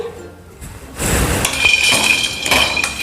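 Roasted chana dal (split gram) poured into a metal pan after golden coconut, giving a loud rattling clatter of hard lentils striking and scattering over the pan surface, with clinking metallic hits throughout.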